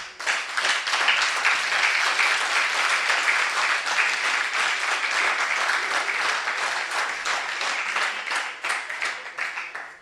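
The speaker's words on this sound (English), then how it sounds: "Betuna, can we give a Minister a big, big round of applause?" Sustained applause from a crowd at a certification ceremony, loud and dense, fading slightly toward the end.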